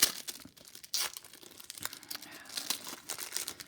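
Plastic-sleeved scrapbook cards for pocket scrapbooking handled up close, producing quiet crinkling and crackling in irregular bursts with a few sharper rustles.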